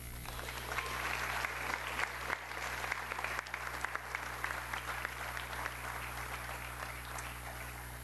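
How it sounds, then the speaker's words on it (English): Steady applause from an audience at a school awards night, a continuous mass of clapping heard from within the hall for several seconds, with a constant electrical hum underneath. "One last round of applause for all of them."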